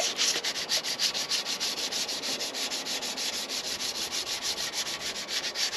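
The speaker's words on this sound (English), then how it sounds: "I won't say a coarse sandpaper, but this is like 320." A wet engine deck on a Ferrari 308 engine build is hand-sanded with 320-grit sandpaper, giving close, steady back-and-forth rasping strokes in an even rhythm.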